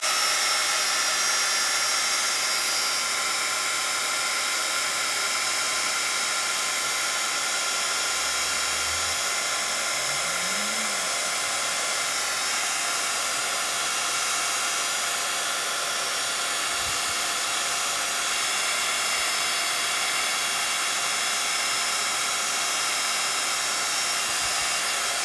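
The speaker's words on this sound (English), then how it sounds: "So you get your heat tool and just hold your card." A heat tool blows hot air onto an embossed card in a steady, loud, continuous hiss and whir that holds unchanged throughout, with no speech.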